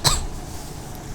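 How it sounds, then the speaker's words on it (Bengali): A single short cough near the microphone at the start, then only quiet room noise for the rest. "সরি গাইস, একটু কাশি।"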